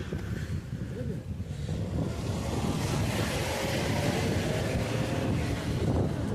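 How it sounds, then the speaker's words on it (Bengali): Strong, cold wind roars across the high mountain pass at Nathula in Sikkim, a steady loud buffeting against the microphone with no pauses. "আর প্রচণ্ড ঠান্ডা, আর বাইরে প্রচণ্ড হাওয়া দিচ্ছে"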